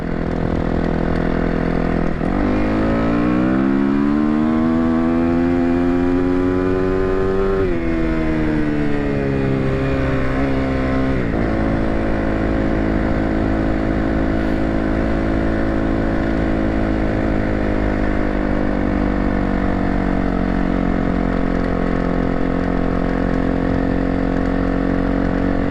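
An off-road enduro motorcycle engine runs loud and close throughout, climbing in pitch through several gear changes early on and then settling into a steady drone while riding, with no voices.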